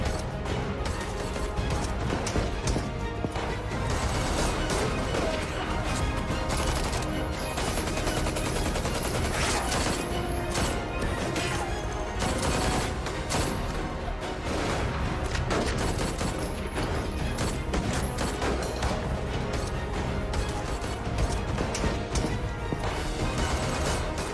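Dense, continuous gunfire in a dramatized police encounter with gangster Anandpal in Rajasthan, with rapid overlapping bursts, cracks and crashes, loud and sustained throughout without talk.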